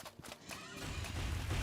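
A horse whinnies in the video game Outward, a clear neigh in the first half followed by a rising wash of broadband noise, with no talking.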